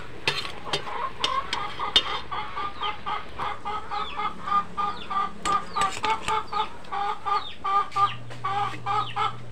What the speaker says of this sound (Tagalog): ang ingay pala ng mga manok